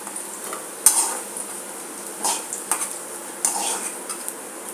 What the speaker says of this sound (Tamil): இப்போ பிரண்டை அப்படியே எடுத்துடலாம்.